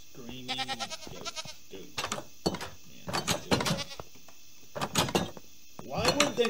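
Goats bleat in a video game, several short nasal calls spaced across a few seconds, loud and close, with gaps of near silence between them.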